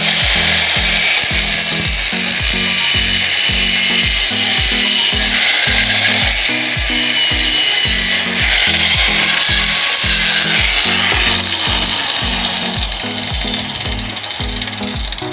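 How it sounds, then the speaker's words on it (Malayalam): Round metal rod being cut by hand to form an arrowhead, with a loud, steady rhythmic back-and-forth sawing stroke repeating close up, about two strokes per second, with no talking. "ഒരു റൗണ്ട് കമ്പിയുടെ രണ്ട് ഈ സൈഡ് ഈ സൈഡും ഒരേ സൈഡിൽ നിന്ന് തന്നെ ചായച്ച് കട്ട് ചെയ്യുക"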